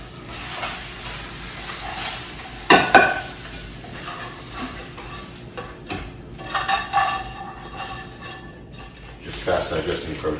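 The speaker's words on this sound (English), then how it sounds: "I have 200 milliliters of egg whites and 1 whole egg cooking." About 200 millilitres of egg whites and one whole egg fry in a pan, giving a steady sizzle and hiss broken by the clatter and scrape of a utensil against the pan.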